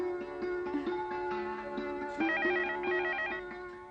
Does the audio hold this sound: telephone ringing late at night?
yes